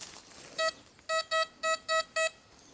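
Metal detector signal reading 84-86 while hunting for finds: a series of five short, clear, evenly spaced electronic beeps, fairly loud over a quiet outdoor background.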